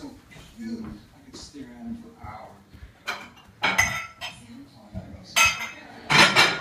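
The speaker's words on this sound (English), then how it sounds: "Let's go watch him do the dishes." A pit bull gets into the dishes, causing irregular clinks and clatters of plates, cutlery and glassware, growing louder toward the end, while people talk over the noise throughout.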